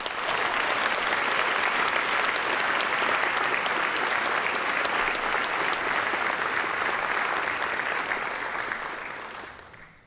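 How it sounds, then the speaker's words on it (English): Steady, full applause from an audience at a high school senior awards ceremony, a dense continuous wash of clapping that holds evenly for about nine seconds and then fades away. "Please join me in a round of applause."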